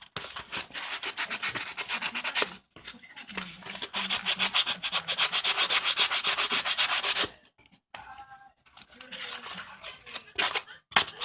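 Plastic book cover being sanded by hand, rapid rhythmic scratchy strokes in several bursts with short pauses between, close and fairly loud.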